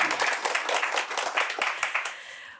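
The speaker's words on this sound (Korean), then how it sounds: "오늘도 열정을 다해 강의해 주신 신부님께 큰 박수 부탁드리겠습니다" A small audience claps after a priest's lecture on the Book of Revelation, with distinct, fairly close hand claps in an uneven rhythm that keeps going for a couple of seconds.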